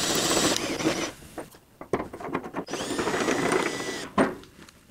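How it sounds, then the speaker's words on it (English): A power drill whirs in bursts, stopping and starting, with mechanical clicking and grinding as it spins a threaded rod on a motorcycle lift table wheel clamp close by. "turning this by hand is boring, so of course I can use my drill"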